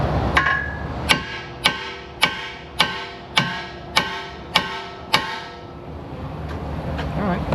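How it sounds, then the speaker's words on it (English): A hammer taps repeatedly on a Honda Accord axle in a garage, about eight sharp metallic strikes at a steady, roughly half-second rhythm, close and clear with short ringing decays. "Now I'm going to get a hammer"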